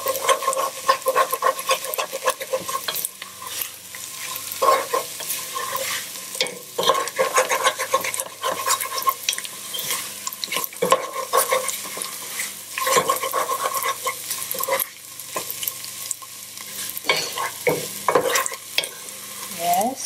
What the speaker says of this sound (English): Stirring, constant stirring at this point.